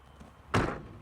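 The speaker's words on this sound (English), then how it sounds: "You can slam your door," The door of a hybrid caravan with a 3-point locking mechanism is slammed once, giving a single sharp, close thud that decays quickly into a quiet room.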